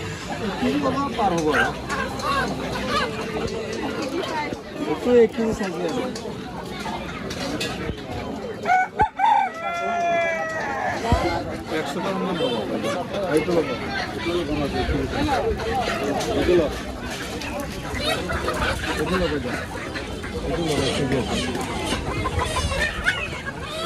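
Chickens cluck and a rooster crows loudly at a busy weekly rural market in Karbi Anglong, Assam, with crowd chatter and people talking over the birds throughout.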